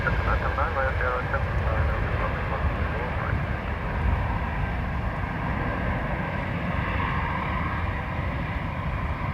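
Airbus A320neo jet taking off at Dublin Airport on a wet, gusty crosswind day, a steady broad engine roar with a low rumble holding throughout, fairly loud and close, with faint radio chatter underneath.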